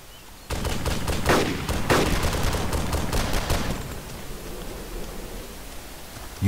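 Sniper rifle fire in the video game DayZ: a burst of loud, sharp shots packed close together from about half a second in, fading into a rushing noise.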